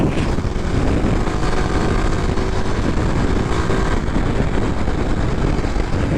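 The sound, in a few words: Kawasaki KLX 300SM motorcycle engine downshifting and rev matching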